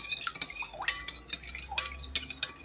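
Chicken is stirred by hand in a lemon juice marinade in a bowl, with quiet, irregular wet squelches and light clinks repeating close by.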